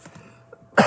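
A single sharp cough bursts out near the end, loud and close, after a few faint soft sounds in a quiet indoor crafting setting.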